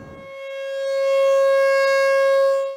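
A tornado warning civil defense siren sounds alone, a loud sustained wail that swells over the first second and holds steady before cutting off.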